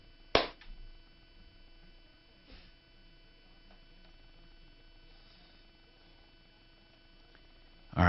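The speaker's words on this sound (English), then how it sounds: "Tell me when you see my clap." A single sharp hand clap cracks out near the start, loud and close in an otherwise quiet room with a faint steady hum, followed by another abrupt hit at the very end.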